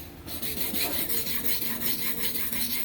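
A kitchen knife drawn back and forth over a Bogor natural whetstone, a close, steady rasping grind in regular strokes of roughly a few per second, continuous with no speech.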